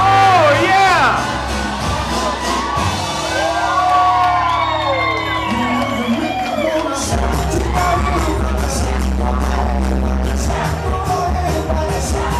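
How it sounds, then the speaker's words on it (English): Wedding guests shouting together in a loud, sustained collective cry that rises and wavers in pitch, mixed with whoops and cheering over background music at a reception venue. "Everybody say ah. A little higher. A little louder."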